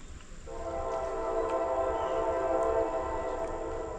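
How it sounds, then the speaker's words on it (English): A train rumbles past near a tent campsite on the Tug River, its horn sounding in a long, steady blast over the rolling rail noise. "Train."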